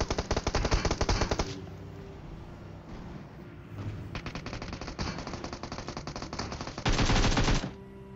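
Automatic gunfire in PUBG Mobile played on an iPad Mini 5, loud sustained bursts at the start, a lighter rattling stretch in the middle and another heavy burst near the end, with no talk.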